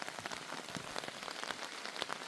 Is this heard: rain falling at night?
yes